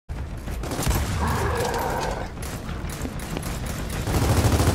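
Gunfire from snipers in the video game Gears of War 4, dense overlapping shots and battle noise at moderate volume throughout.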